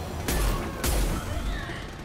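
A launcher weapon firing in Mass Effect 2, two heavy booming blasts about half a second apart, loud and close, followed by a lingering rumbling tail.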